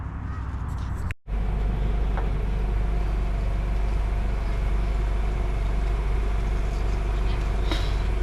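A rebuilt Ford 6.0 Powerstroke diesel V8 runs at a steady rumbling idle, loud and close, with a brief cut near the start before the drone resumes unbroken.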